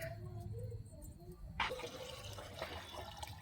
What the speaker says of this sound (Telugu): మరి కొంచెం వాటర్ వేద్దాము